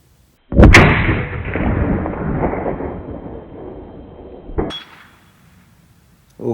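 A 6.5 Creedmoor or 6.5 Grendel rifle fires at a steel target: a sharp, loud blast rolls off into a long echoing decay, then a distant metallic ping from the hit steel rings out.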